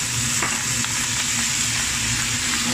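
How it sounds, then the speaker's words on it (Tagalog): Yellow onion sautéed with a splash of soy sauce for Chinese-style honey chicken wings, giving a steady close sizzle with light scraping stirs throughout, no talking. "Yan, siyempre haluin lang ito parang ginigisa."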